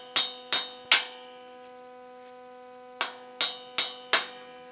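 A brass hammer tapping bolts loose on a home-built solar tracker: three sharp metallic strikes, a pause, then four more, each ringing briefly with a bright clang.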